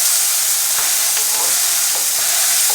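Pork sausage frying in a 10-inch skillet, a loud, dense hissing sizzle with a few faint scrapes, close and without talk.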